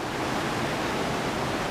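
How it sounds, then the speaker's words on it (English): The East Lyn river on Exmoor roars in a steady, dense rush of water, close and loud with no breaks and no voices. "I hope you can hear me over the roar of this water"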